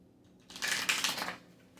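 Deck of Kali oracle cards being shuffled by hand, one quick riffling burst lasting under a second, close and soft in an otherwise quiet room.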